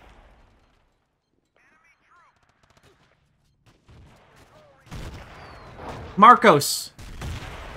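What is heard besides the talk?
artillery fire in video game Battlefield 2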